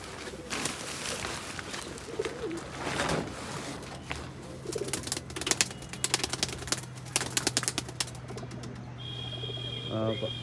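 Pet Pakistani racing and Giribaz pigeons kept indoors on a cold morning make soft, low, repeated cooing over a steady hum, with intermittent clicking and tapping and some faint talk.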